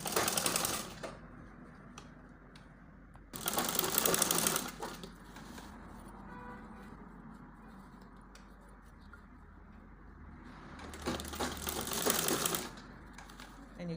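A sewing machine runs in two short bursts while stitching a baby girl's gathered gown along its turtleneck, with quieter handling and fabric movement between the runs.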